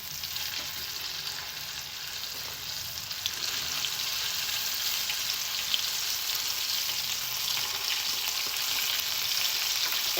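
Battered chicken livers frying in hot grease, a dense steady crackling sizzle that stays close and even, slightly building in intensity, with no voices.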